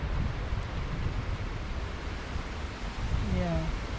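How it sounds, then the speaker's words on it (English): Wind gusting during Hurricane Ian amid heavy rain, a broad roaring rush that swells and eases, with a voice calling out briefly near the end. "There's a gust."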